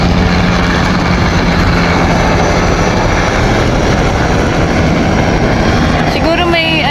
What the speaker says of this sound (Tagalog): Uy, ang baba ng helicopter,